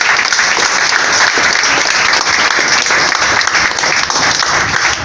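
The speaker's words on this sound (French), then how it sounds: "Applaudissez." A church congregation bursts into loud, continuous applause, many hands clapping densely at once, with a faint murmur of crowd voices beneath.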